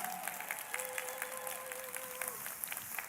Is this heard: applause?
yes